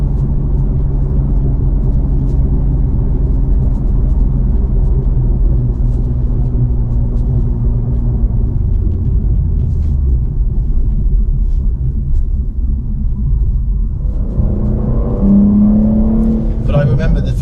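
A supercar engine in fourth gear, a loud, deep rumbling drone that holds steady and then rises in pitch as it accelerates, with a voice briefly talking over it.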